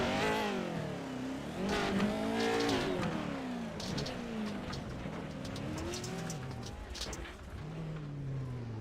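Onboard race car engine from a sim racing esports short course event, revving and shifting loudly with rising and falling pitch, tires squealing at moments, continuous throughout with no talk.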